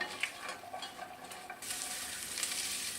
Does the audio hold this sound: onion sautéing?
yes